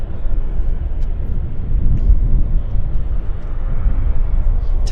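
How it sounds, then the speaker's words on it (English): A Bombardier Q400 turboprop airliner taxies in after arrival at Vancouver Airport, a steady low rumbling engine drone holding at even loudness throughout with no voices. "Q400 coming this way."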